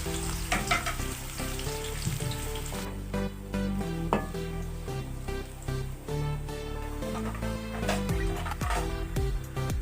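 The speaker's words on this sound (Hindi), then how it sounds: "इसमें प्याज डाल लेते हैं और इनको गोल्डन फ्राई कर लेते हैं" Onions frying golden in hot oil in a kadai, a steady sizzle running underneath loud background music with tonal melody and beats throughout.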